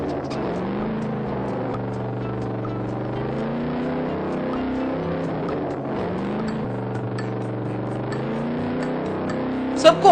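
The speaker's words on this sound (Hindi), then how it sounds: "ललित बहुत तेजी से बाइक चला रहा था।" In a cartoon race, a sports motorbike speeds along with a continuous buzzing engine whine whose pitch rises and falls as it revs, steady and fairly loud, with a couple of brief knocks at the end.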